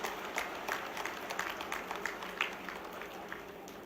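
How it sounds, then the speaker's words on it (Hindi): Crowd applause of moderate loudness at an outdoor-style government panchayat gathering for urban street vendors and handcart pullers, welcoming the Chief Minister; steady dense clapping with a faint murmur of voices underneath, sustained throughout. "जोरदार तालियों के साथ माननीय मुख्यमंत्री जी का अभिनंदन करें, स्वागत करें।"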